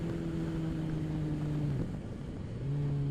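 A 2014 BMW S 1000R motorcycle's inline-four engine holding a steady tone, then dipping as revs drop briefly before settling back to a sustained hum, heard close and alone.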